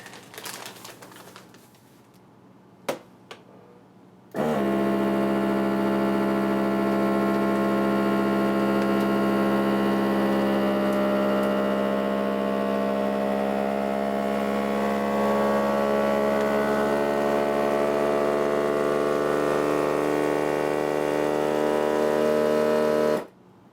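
A vacuum sealer working on a bag of sugar starts after a few clicks, then runs as a loud, steady motor drone for almost twenty seconds before cutting off abruptly.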